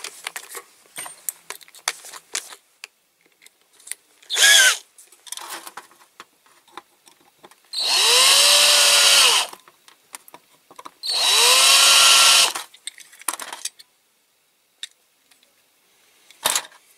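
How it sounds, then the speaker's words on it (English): A power drill whirs in two sustained bursts of several seconds each, drilling into a Siku Magirus Deutz toy concrete mixer, with a shorter burst before them and scattered clicks and handling noises between. "Might have to use a slight bigger drill."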